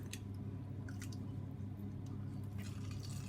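A cooked, watery seasonal vegetable squeezed through a potato ricer for homemade gnocchi gives wet squishing and dripping sounds in soft bursts over a low steady hum, close and fairly quiet.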